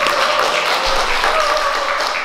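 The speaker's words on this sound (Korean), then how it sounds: "우리 먼저 이원표 선생님께 뜨거운 박수 좀 부탁드리겠습니다." A crowd at a Korean cultural arts concert gives warm applause, a loud, dense and steady wash of clapping lasting a couple of seconds, with a faint sustained tone underneath.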